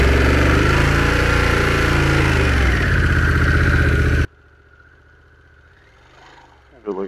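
A Harley-Davidson Pan America motorcycle engine runs loud and close with a throbbing rumble, then cuts off abruptly, leaving near silence before a brief knock at the end.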